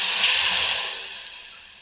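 Water hits a hot frying pan where ingredients for Korean ramen have been lightly fried, giving a loud burst of steamy sizzle and hiss that gradually fades over a couple of seconds.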